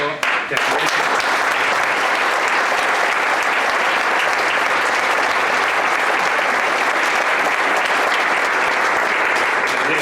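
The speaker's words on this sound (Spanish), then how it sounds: "Quería dedicarle un fuerte aplauso" Loud, dense applause from an audience at a peña's tenth anniversary celebration, dedicated to an ailing member, sustained and steady for the full length after a brief ragged start.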